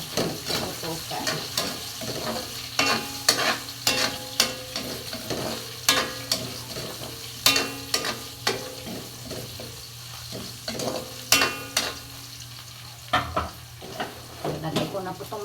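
Onions being sautéed in a pan for a mung bean stew, cooked outdoors in the mountains, with a soft sizzle under repeated clattering of a spoon stirring and scraping, and sporadic knocks throughout.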